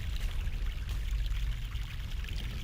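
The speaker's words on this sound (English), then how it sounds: "No, wait, we use the funnel in the water." Water is poured through a funnel in the adventure game The Longest Journey, a steady gurgling pour with a trickling stream, continuous and fairly quiet.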